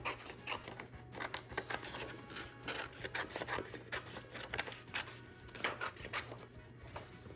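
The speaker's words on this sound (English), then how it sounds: "And then I'm gonna cut it with my" Soft, repeated snipping and rustling of scissors cutting through paper, close by and continuous, over a low steady hum.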